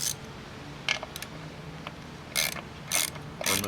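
A ratcheting wrench clicks in short bursts, loosening 11mm bolts on a Harley-Davidson Keihin CV40 carburetor, several quick ratchet runs separated by quiet pauses, close and crisp.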